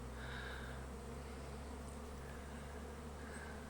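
Honey bees in flight outside their hive on a fine day, a dense steady buzzing drone from many insects close by, continuous throughout with no voices.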